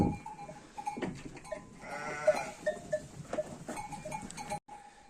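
Lambs and sheep bleat on a village farm, several short cries repeating at moderate distance over a steady outdoor background.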